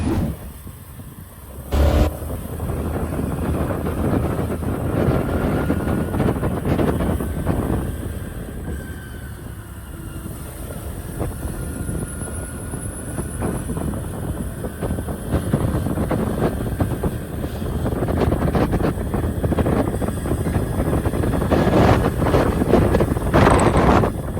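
A Honda Dio BS6 scooter on a test ride for a misfiring problem, its engine and road noise mixed with steady wind buffeting the microphone, continuous and fairly loud throughout.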